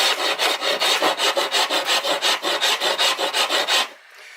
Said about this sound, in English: take that off with the rasp now. That's my Farrier's rasp.